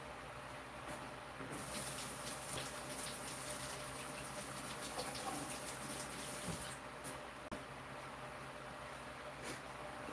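Green beans rinsed under a running kitchen tap, a steady soft wash of flowing water continuing for the full stretch, fairly quiet and even with slight splashing changes.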